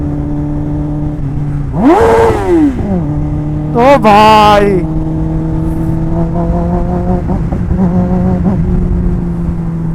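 Kawasaki ZX-10R superbike engine idles with a steady drone, then is blipped in two sharp revs that rise and fall before settling back to idle; someone speaks briefly over it.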